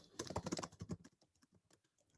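Rapid clattering keystrokes as code is typed on a computer keyboard, a dense burst that thins to sparse, slower taps, close and fairly quiet with no speech.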